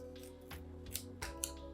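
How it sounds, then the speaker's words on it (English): Scissors snipping open a Nespresso descaling agent packet, a few short, quiet cuts close by against a soft background hum. "So I'm gonna take my scissors here and cut."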